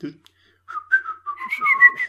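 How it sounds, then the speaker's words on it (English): A person whistles a short rising and falling melody, clear and close, with a brief pause before the tune begins. "You're whistling."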